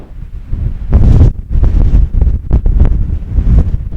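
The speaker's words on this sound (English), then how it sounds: "Definitely too windy right here though" Strong mountain wind gusts batter the microphone beside a small tarn, roaring in loud, uneven bursts that swell and drop with no voices over them.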